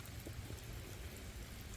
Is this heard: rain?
yes